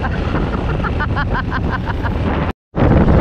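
Strong wind roars and buffets in a steady loud rush over a boat engine drone at sea near Fortune Island, then cuts out abruptly for a split second before resuming.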